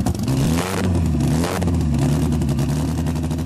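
The engine of a BMW X5 M is test-fired outdoors in a desert and runs with a loud, rough, revving growl and mechanical clatter that fluctuates throughout.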